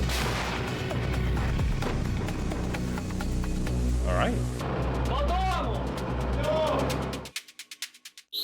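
A Panzerhaubitze 2000 self-propelled howitzer fires, a dense, loud broadband roar of heavy blasts and rumble that stays sustained for several seconds before cutting off into a few sharp trailing bursts.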